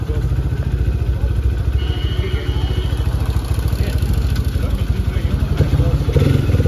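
A modified Hero Xpulse 200 4V motorcycle engine runs close by with a loud, steady pulsing idle and throbbing exhaust beat throughout.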